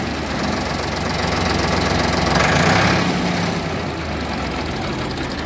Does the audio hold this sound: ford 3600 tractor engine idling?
yes